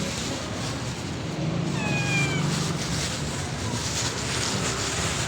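A cat lets out a single rising meow over a windy, rumbling outdoor background, with faint further meows trailing after.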